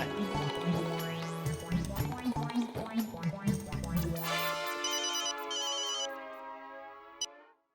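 A phone ringtone plays a repeated melodic tune, loud and close, then shifts into a sustained tonal pattern before cutting off with a short click.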